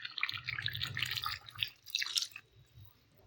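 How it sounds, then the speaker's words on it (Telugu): Water pours from a glass into a clay pot of brown rice, a bright splashing trickle for about two seconds that tapers into quiet drips. "1 గ్లాస్ పోసాను"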